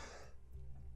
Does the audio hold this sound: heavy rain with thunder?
no